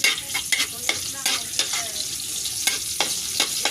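Garlic added to a hot wok that already holds ginger, frying with a steady sizzle while a utensil scrapes and knocks against the pan in repeated strokes, close and fairly loud, with no talking.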